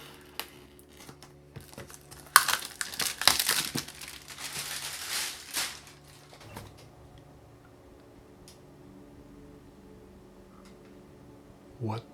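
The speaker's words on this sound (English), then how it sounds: "let's get this box undone. Only scissors I could find." Scissors cut open a cardboard box in a workshop, giving a burst of crinkling, scraping and crunching cuts that stops after a few seconds and leaves near-quiet room tone with a faint click at the end.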